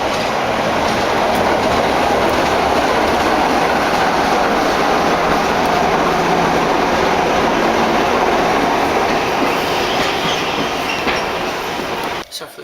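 Heritage train ride on the Ecclesbourne Valley Railway, heard from on board: a loud, dense, continuous rumble of wheels on track with clickety-clack, steady throughout before cutting off at the end.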